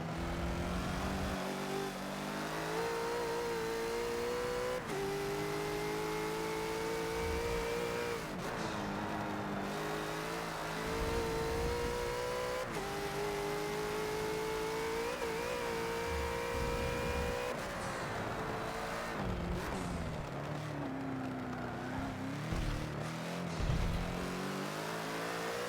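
A Bentley GT3 race car lapping Laguna Seca in Forza, its engine droning and rising through gears with repeated upshifts and revving, steady and close throughout with no voices.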